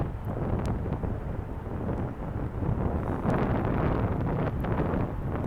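Wind blowing outdoors near a burning fire, rumbling and buffeting the microphone steadily with gusts and some faint crackling or rustling throughout.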